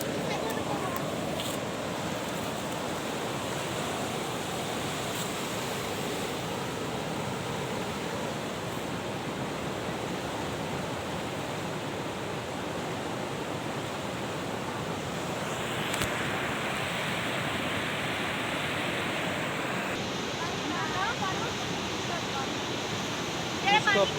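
Sea water washes up on a beach in Pakistan, a constant broad rush of surf with wind buffeting the microphone throughout, and a brief swell of water noise midway.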